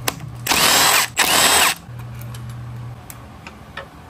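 A power tool spins out 8mm bolts on a wrecked 2018 Triumph Street Triple 765 RS motorcycle, with two loud close bursts of whirring and ratcheting, then a steady lower hum and faint ticking.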